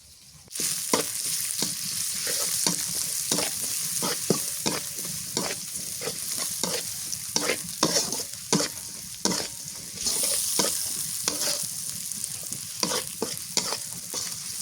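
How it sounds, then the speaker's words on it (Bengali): Continuous close sizzle of chopped onions and bay leaves frying in mustard oil in a wok, with frequent rhythmic scrapes of a spoon stirring, loud and steady throughout. "পেঁয়াজ ভাজা হয়ে গেছে"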